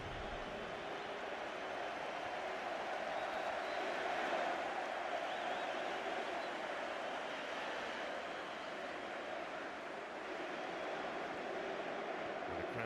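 Stadium crowd at an Everton versus Chelsea football match, a broad, steady roar of cheering voices heard from a distance and holding evenly throughout without a break.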